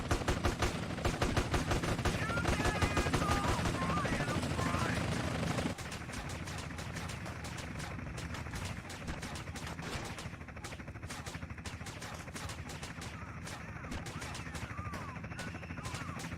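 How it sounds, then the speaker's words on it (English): Dense, rapid gunfire in GTA San Andreas Definitive Edition crackles continuously during a five-star wanted level chase, loud at first then thinning into scattered shots over background game sound. "we're actually getting shot at with 5-star wanted level right now"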